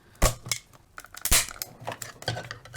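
A screwdriver pries at the plastic casing of a USB charger light, giving sharp cracking snaps and scraping clicks in an irregular sequence, two louder cracks standing out, close and dry.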